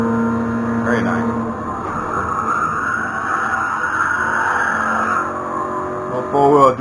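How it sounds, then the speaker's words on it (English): Racing video game engine note of a Toyota GR86 held at high revs through a long four-wheel drift, with a sustained drone and faint tire noise, swelling louder near the end; background music and a voice sit underneath. "Little four-wheel drift action."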